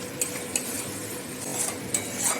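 A spoon stirs pointed gourd (parwal) curry in a metal pan, scraping and clinking lightly over a soft background sizzle, close and moderate in level, with no talking.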